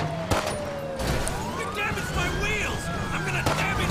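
A few sharp gunshots ring out in a GTA 5 police pursuit, set against a loud wailing siren that rises and falls, with car noise underneath.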